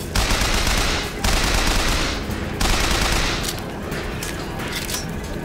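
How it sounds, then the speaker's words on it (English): Automatic gunfire aimed at the player in Bioshock Infinite comes in three loud, sustained bursts, each about a second long, then trails into softer scattered shots. "I think it's shooting at me."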